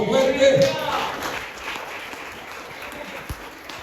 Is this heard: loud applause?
yes